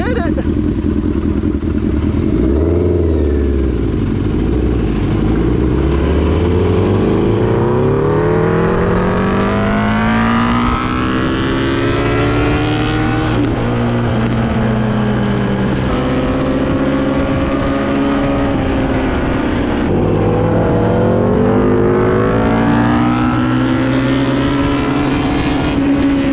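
A 1000cc 200hp ATV engine roars close by as it is revved through first gear, pitch sweeping upward in long rising pulls and dropping back, with people talking over it.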